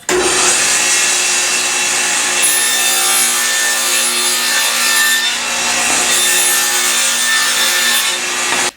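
A table saw cuts the shoulders of a hardwood dovetail for drawer runners, producing a loud, sustained whining rasp of blade through wood that holds steady for several seconds.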